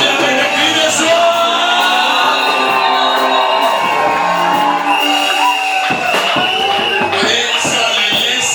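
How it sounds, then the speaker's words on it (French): Congregation at a church wedding blessing erupts in loud cheering, whoops and shouts of joy, a dense crowd roar mixed with voices and occasional bangs, sustained throughout. "Acclame Jésus avec des cris de joie."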